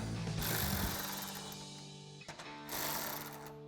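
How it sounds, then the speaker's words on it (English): Mechanical ratcheting from a hand ratchet turning a 10mm socket on the headlight mounting bolts of a 2012-2015 Toyota Tacoma, steady close clicking and whirring with a short pause midway, no talk. "take a 10mm socket to tighten these down."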